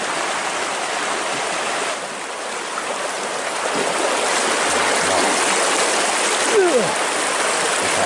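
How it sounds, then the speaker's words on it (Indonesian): A clear river stream flows and rushes steadily close by, a loud continuous watery roar with faint voices and a brief squeak near the end. "Kita akan turun ke sungai ya. Tuh airnya di sini jernih ya"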